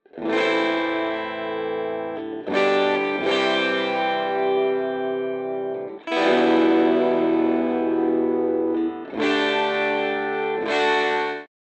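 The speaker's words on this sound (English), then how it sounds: "let's take a listen to the electric guitars" Distorted electric guitars play thick, sustained chords in several bursts with brief gaps between them, loud and upfront with no voices.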